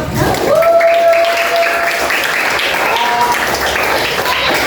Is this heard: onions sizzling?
no